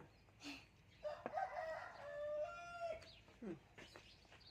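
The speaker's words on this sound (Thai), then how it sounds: "สียงไก่ขัน" A rooster crows once, a long drawn-out call at moderate distance, with faint voices and short sounds around it.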